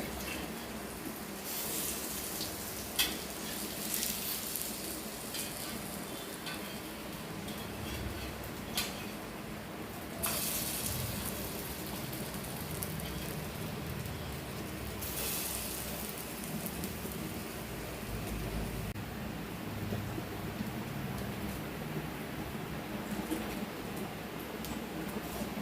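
Sweet potato cutlets frying in oil on a hot tawa give off a steady, close crackling sizzle with scattered sharp pops, and no voices.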